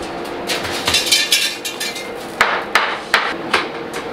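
A hammer taps on the metal of a farm grain-drying system during corn harvest: a run of quick light taps, then a few sharper, louder metallic knocks, close with no talk.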